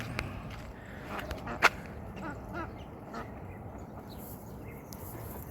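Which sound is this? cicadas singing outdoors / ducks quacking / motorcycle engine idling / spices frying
ducks quacking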